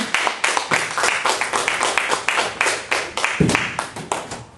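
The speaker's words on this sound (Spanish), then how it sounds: "vamos a empezar dándole un aplauso a Cristo de la gloria" A church congregation claps together in a steady, fairly loud run of sharp claps with a rhythmic, unison feel, and a few voices mix in.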